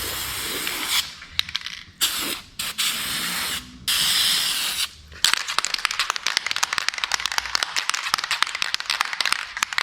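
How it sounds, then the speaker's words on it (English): Spray-on rust remover hisses from an aerosol can in several short bursts separated by pauses, followed by crackling and fizzing as it works on the metal. "this is a spray-on product, so all I'm going to do is spray it on there"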